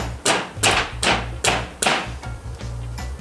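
A hammer taps a dust cap into the hub of a BMX bike during assembly, five firm evenly spaced knocks, close and loud, followed by a softer thump.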